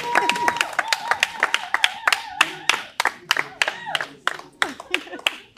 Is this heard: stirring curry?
no